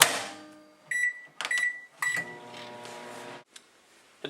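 A microwave oven heats a mug of coffee cake batter, its steady hum broken by three short electronic beeps near the start, then running on alone before a brief clunk near the end.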